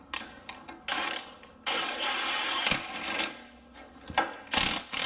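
A bottom bolt is threaded by hand into a Jeep Wrangler rear shock mount during shock replacement, giving bursts of clicking, ratcheting metal sounds with short pauses between them, close and fairly loud.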